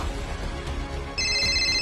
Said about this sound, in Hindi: थोड़ी दूर पहुंचकर उसका फोन बजने लगा।